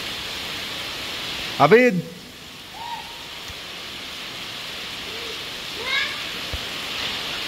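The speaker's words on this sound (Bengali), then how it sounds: "চলছে বৃষ্টি, সেই তুমুল বৃষ্টি কালকে থেকে হচ্ছে, হতেই আছে এখনো।" Heavy rain pours down without pause, as it has since the day before, a steady hiss around a house with water pooling out front; a voice calls out briefly and a few faint hoot-like calls come and go.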